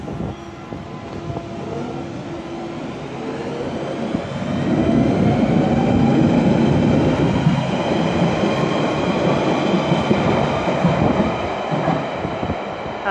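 A train pulls out of a snowy station, its rumble and rolling wheel noise building and growing louder partway through, with faint squealing tones, heard close from the platform and steady to the end.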